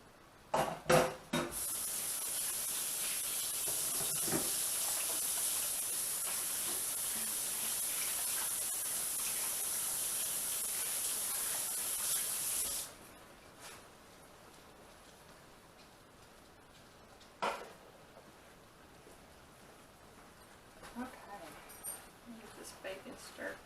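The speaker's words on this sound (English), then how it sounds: "I'm going to go wash them again." Tap water gushing steadily into a sink during handwashing in a home kitchen, a loud continuous hiss lasting about twelve seconds before cutting off abruptly, followed by quieter clinks and handling.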